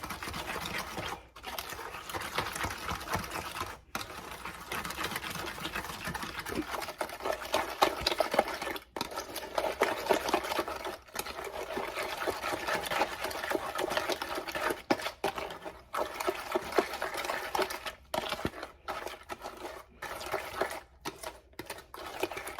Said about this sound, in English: And then what you want to do is mix it. Get it all mixed in.